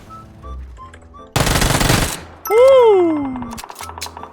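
A short burst of rapid automatic gunfire, loud and close, followed by a rising and falling synthetic whine, with other game sounds around it.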